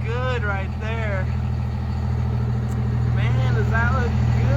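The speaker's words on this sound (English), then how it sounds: "Let's get an exhaust of all of them." Cummins diesel pickup trucks idling together with a steady low rumbling exhaust drone close by, while someone talks excitedly over the engines.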